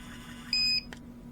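An Istoyo mixer gives a single steady electronic beep as it switches off, clear and close over a low mains-like hum, followed by a short faint click.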